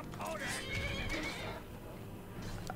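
A horse in the video game Skyrim gives a loud, close whinny with clip-clop hoofbeats and a wavering neigh over the first second and a half, followed by fainter rumbling game sounds.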